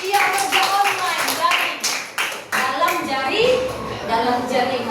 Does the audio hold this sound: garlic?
no